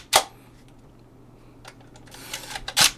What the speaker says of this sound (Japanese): このシャッターチャージもすごく軽く動作しております。